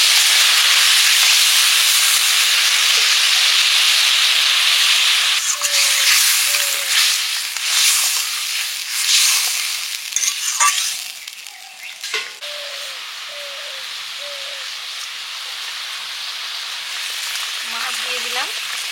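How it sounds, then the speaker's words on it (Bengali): Mustard paste thinned with water hits a hot pan and sizzles loudly, a dense frying hiss that gradually settles to a softer simmer, with voices briefly heard over it. "এবার দিচ্ছি সর্ষে বাটা"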